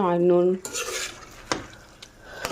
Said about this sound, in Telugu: ఇప్పుడు చికెన్ మొత్తం ఇందులో వేసేసి బాగా కలిపేద్దాం